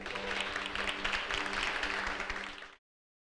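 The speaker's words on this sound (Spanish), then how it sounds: "Le damos un aplauso al Señor." A church congregation applauds after a prayer, dense sustained clapping filling the room for nearly three seconds before cutting off abruptly, with no talk over it.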